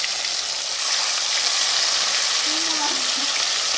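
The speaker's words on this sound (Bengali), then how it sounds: "দই কাতলার জন্য মাছ ভাজা শুরু হয়ে গিয়েছে।" Pieces of katla fish fry in hot oil for doi katla, a dense, steady sizzle that crackles continuously at close range, with a faint voice briefly underneath.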